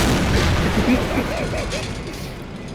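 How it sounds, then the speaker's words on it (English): Tanks trade cannon fire in the World War II strategy game Men of War: Assault Squad 2, a dense, continuous battle din with repeated booms and gunfire layered throughout. "It's just sitting there shooting each other and not even doing anything."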